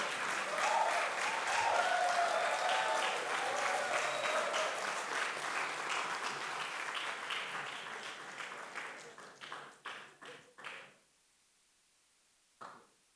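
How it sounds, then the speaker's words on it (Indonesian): A wedding congregation applauds the couple, a dense, steady roomful of clapping that thins into scattered final claps and a last lone clap after a pause. "Kita beri aplaus dan juga doa bagi mereka ya."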